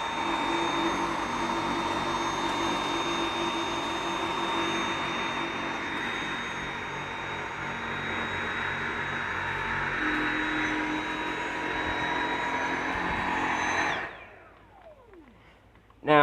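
A Dyson V7 Motorhead cordless stick vacuum runs close and steady with a high whining motor tone and a broad airy roar. It then cuts off near the end, and the whine winds down.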